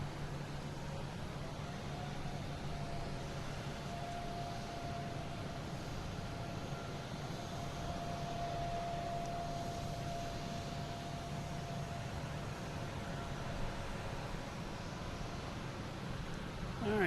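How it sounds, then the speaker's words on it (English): A Southwest Boeing 737 MAX 8 jet at Boston Logan airport: a continuous broad engine roar with a faint steady whine, constant in level throughout, distant rather than close. "we have Southwest heading to Chicago Midway, 737, MAX 8"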